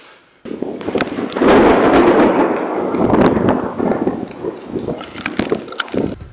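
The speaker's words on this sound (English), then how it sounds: "The volcano! I knew it was going to erupt!" Erupting volcano as a film sound effect, a loud continuous rumbling roar mixed with crackling blasts and debris, close and dense throughout.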